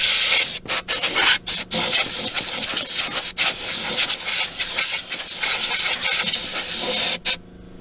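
Compressed air blasting debris out of the throttle body area of a Mazda 5, with the mass airflow sensor covered. The hiss is loud and steady, broken by several short pauses, then cuts off near the end.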